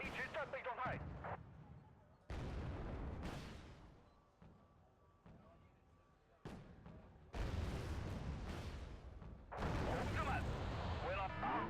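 BMP armoured vehicles firing in Wargame: Red Dragon, with heavy booming shots and explosions arriving in uneven bursts, some near and loud, others duller, while someone talks over parts of it.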